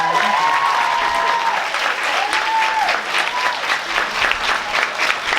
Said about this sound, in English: can everybody please give them a big round of applause?